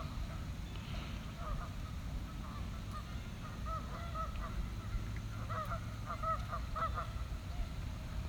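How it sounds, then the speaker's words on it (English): Distant Canada geese honk in scattered bursts over a steady low outdoor rumble, the calls faint and repeated, with a flurry of honks near the end. "that's one thing you hear year round is Canadian geese"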